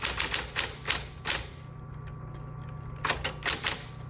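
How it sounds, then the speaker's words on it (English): Typing on a 1960s Smith Corona Coronet manual typewriter: bursts of sharp, close key strikes with a steady low hum between them, a quiet pause mid-way, then another quick run of keystrokes. "It's still typing, but the carriage has stopped moving."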